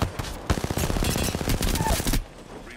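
Rapid automatic gunfire in a video game, a loud, fast rattling burst lasting about two seconds and then cutting off abruptly.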